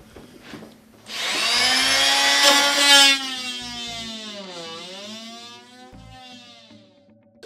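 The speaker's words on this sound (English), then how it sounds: "we need to cut and remove the center stud" Power tool cutting out a wooden center stud during a central vacuum retrofit installation, a rising motor whine that holds loud for a couple of seconds, then bends in pitch and winds down.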